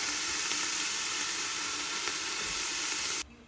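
Vegetables frying in a covered pan, a dense, steady close sizzle with faint stirring ticks that cuts off abruptly near the end.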